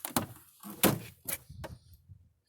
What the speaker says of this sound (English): Or I'll open up the door first here.